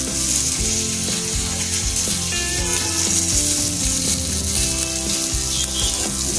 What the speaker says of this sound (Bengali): আর তার সাথে যে পেঁয়াজটাকে আমি কেটে রেখেছিলাম এই পেঁয়াজটা দিয়ে দেবো